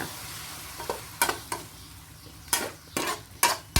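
Beef stir-fried with holy basil in a pan: a steady sizzle broken by several sharp scraping and clattering strokes of a utensil against the pan, close and fairly loud, with no talking.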